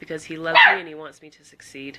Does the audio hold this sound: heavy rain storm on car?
no